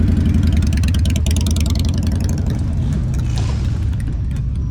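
A service technician's motorcycle engine runs steadily at close range, its deep rumble holding through a gentle rev with no voices over it.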